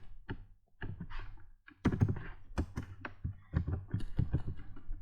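Quick clicks and taps of typing on a computer keyboard while writing C code, irregular bursts of keystrokes close by, starting sparse and then getting busier, with no voices.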